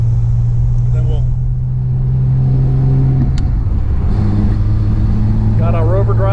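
A 1959 Austin Healey 100-6 cruises in overdrive on a winding road, its six-cylinder engine holding a steady low drone from inside the car while someone talks over it.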